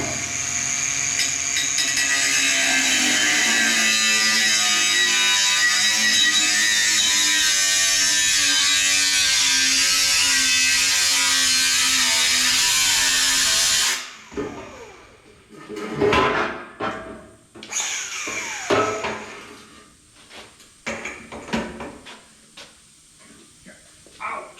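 Sawzall reciprocating saw with a fresh blade cutting a stainless steel exhaust tailpipe on a supercharged 1955 Bel Air, a loud, steady buzzing rasp for about fourteen seconds, then cut off and followed by clanks and handling noises.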